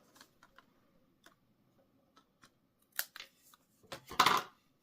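Scissors trim excess paper from a die-cut card: a few faint, scattered snips, then a cluster of louder, crisper cuts near the end, with no talking.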